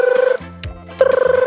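A telephone rings in two rapid trilling bursts separated by a short pause, loud and close.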